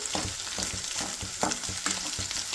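Sliced onions sizzle and fry in a hot pan while being stirred, with steady loud frying hiss and repeated scraping stir strokes about every half second, no talking.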